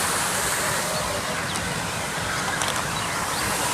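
A water fountain in Nehru Bal Udyan park sprays continuously, a dense even hiss of falling water that stays steady throughout, with no clear voices.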